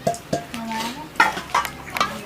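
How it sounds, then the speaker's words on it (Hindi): Seekh kebab mince is kneaded with corn flour in a bowl, giving soft squishing, slapping and stirring sounds with a few clinks against the dish, close and moderately loud. "इसको हमने अभी अच्छी तरह गूंद लेना है।"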